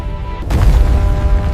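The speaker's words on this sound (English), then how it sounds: "The explosion was so violent that it collapsed the entire mountain into a massive crater" Mount Toba's volcanic supereruption explodes as a sudden deep boom about half a second in, then rolls on as a loud, sustained low rumble that fills the rest of the clip.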